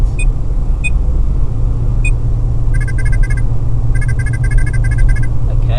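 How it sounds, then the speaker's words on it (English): Speed limit warning chime in a moving car, a few isolated beeps followed by rapid repeated bursts of bleeps over steady low road and engine rumble. "Still beeping, letting us know that we are about to go over the speed limit."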